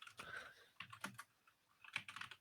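Someone types quickly on a computer keyboard, a close, quiet run of uneven key clacks with brief pauses between bursts.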